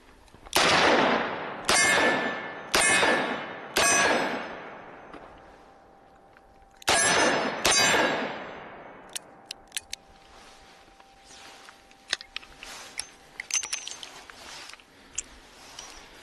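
Six loud, sharp revolver shots from a Smith & Wesson Model 19 .357 Magnum, fired in an irregular string of separate cracks with echoing tails, followed by fainter clicks and handling noises as the cylinder is worked.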